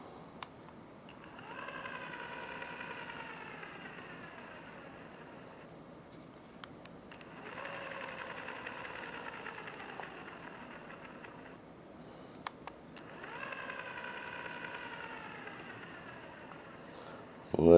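A Rollease or Gaposa motorized window blind motor whirs quietly in three separate runs, each a soft, steady hum with a faint rising whine that starts and stops cleanly against a still room.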